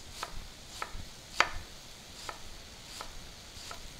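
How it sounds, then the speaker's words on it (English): A knife dices an onion on a cutting board for a mushroom risotto, giving sharp, evenly spaced chops about every half second to second, close and fairly soft with no talk. "cutting little thin stripes, and then I'm going to dice it."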